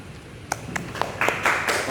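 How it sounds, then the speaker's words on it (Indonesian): Students in a class clap for a presenting group: a few scattered, separate claps come first, then quickly thicken into denser applause from the room. "Tepuk tanganlah untuk kelompok 2."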